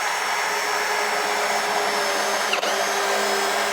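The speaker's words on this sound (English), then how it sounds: "when we drill this side out" A steady, high-pitched power drill whines continuously at close range, drilling out a hole on an Arctic Cat Alpha snowmobile's rear scissor, with a brief catch near the end.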